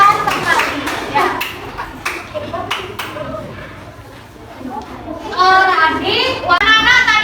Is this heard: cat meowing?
no